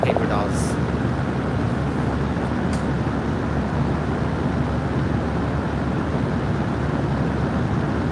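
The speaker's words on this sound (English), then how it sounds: "That's the sound of a fan." An electric fan blowing directly onto a phone's microphone makes a loud, steady, broadband whooshing roar that holds unbroken throughout.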